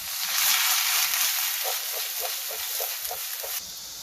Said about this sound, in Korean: 양파랑 파를 카메라이징, 약간 노리끼리한 색깔이 나게 하면서 좀 달달한 맛을 내는 그런 작업을 해보도록 하겠습니다